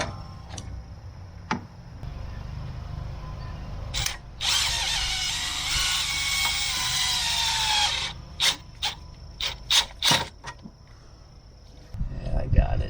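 Hose clamp being tightened during a fuel filter change on a Ford E-Series 7.3 diesel van, a close power-tool whirr lasting a few seconds, then a string of sharp ticking clicks, with brief talk near the end.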